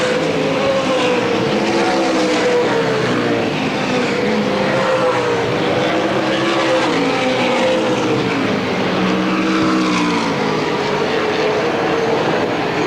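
Race cars roar continuously down the back straightaway of the Motordrome Speedway oval during a 1992 stock car feature, a loud, dense engine drone with shifting pitch as the pack runs through turns three and four.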